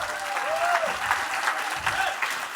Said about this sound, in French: je voudrais que vous accueilliez sous un tonnerre d'applaudissements Leonardo Pelagotti